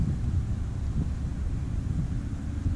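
Strong outdoor wind buffets a microphone during a metal-detecting hunt, a steady, loud low rumble with no speech.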